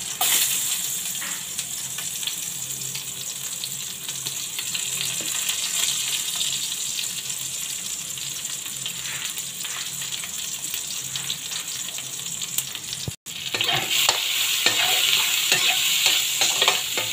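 Fish, prawn and vegetable curry ingredients frying and being stirred in a pan, a steady loud sizzle throughout with scraping and a brief break near the end, no talking.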